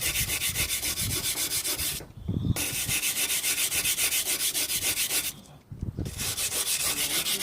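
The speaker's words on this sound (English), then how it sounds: "I use this to unload the sandpaper, because this sandpaper is going to load up with this balsa" Steel brush scrubbed rapidly across sandpaper loaded with balsa dust, a steady rasping scratch of quick strokes, close and fairly loud, broken by two brief pauses.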